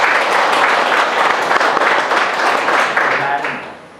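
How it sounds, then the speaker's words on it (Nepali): Audience applause at a national youth council training event in Nepal, a loud, dense burst of clapping from a crowd that holds steady for about three seconds, then tapers off. "तपाईँले एकपटक आफ्नै लागि जोरदार ताली बजाइदिनुहोस् त।"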